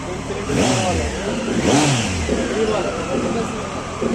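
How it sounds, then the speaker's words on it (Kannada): An RS motorcycle on a display ramp at a 2024 World Motorcycle Day exhibition in Bengaluru gets two sharp throttle blips that rise and fall back to idle, loud and close, with crowd chatter around it. "ರ್ಯಾಂಪ್ ಅಲ್ಲಿ ಆರ್ ಎಸ್ನ ಒಂದು ರೈವ್ ಕೊಟ್ಟೆ."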